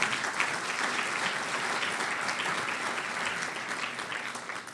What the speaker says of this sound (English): Would you give them a nice round of applause?